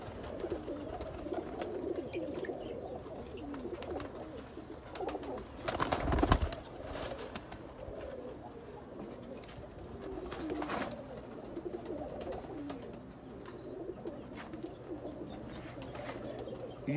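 Pigeons cooing softly and continuously in a breeder's loft, a steady low murmur of several birds close by, with a louder burst of wing flutter or movement around the middle.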